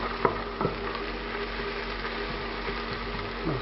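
Green chili, garlic and ginger sizzle gently in a pan for a chickpea chana masala, a steady soft frying hiss with a couple of light stirring knocks.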